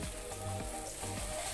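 Lapek batter is stirred in a pan on the stove, a continuous sizzling hiss with regular scraping strokes repeating about every half second, close and steady.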